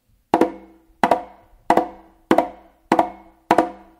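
Six sharp conga slaps, each a quick flam, struck at an even pace with short ringing decays in between; close and alone.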